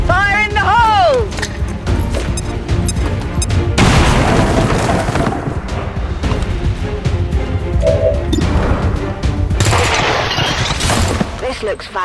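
Grenade blast in XCOM 2 amid heavy combat, with booming impacts, crashes and bursts of gunfire layered over music and voices speaking throughout.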